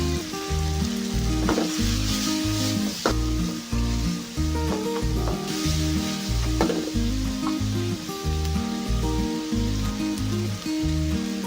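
Chicken cubes stir-frying with onion in a pan for a Chinese-style stir fry, a loud continuous sizzle with stirring scrapes throughout, no voices.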